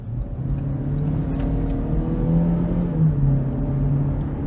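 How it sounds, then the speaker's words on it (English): Inside a 2023 GMC Terrain AT4 with a 1.5-liter turbo and all-wheel drive, a steady low engine hum and road rumble carry on evenly, with the engine note rising slightly as it accelerates. "we're gonna go ahead and take this 2023 GMC Terrain AT4 all-wheel drive out on the road for a quick test drive"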